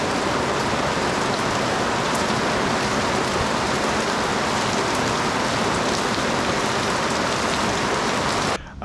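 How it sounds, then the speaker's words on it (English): Heavy rain pours down in the French village of Berny-Rivière, a dense, loud and unbroken hiss of drops hitting surfaces, cutting off abruptly at the very end. "when it rains here in Berny-Rivière, it really rains"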